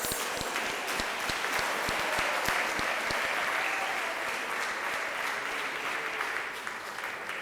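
Audience applause at a health summit, a dense, sustained round of clapping from a large crowd in a hall, steady and fairly loud throughout, with some sharp nearby claps standing out and the applause easing slightly toward the end.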